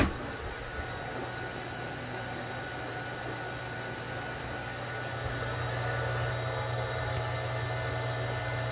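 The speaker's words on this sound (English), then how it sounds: "can you hear the pump?" A continuous mechanical hum of a water pump running steadily, with a low drone throughout and no voices.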